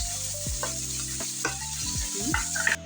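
Dried fish fries in oil with chopped onion and green chilli, giving a steady close sizzle broken by several spoon-scrape stirs and a low tonal hum underneath.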